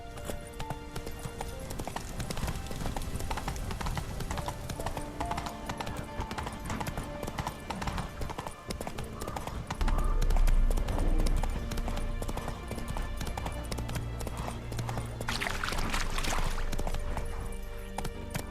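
Roach, the player's horse in The Witcher 3 on Death March difficulty, gallops with a steady, continuous clip-clop of hooves under game music and ambience, growing louder and heavier around the middle, with brief voice lines.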